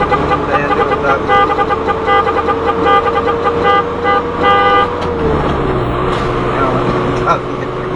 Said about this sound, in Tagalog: Ayan, di ba traffic?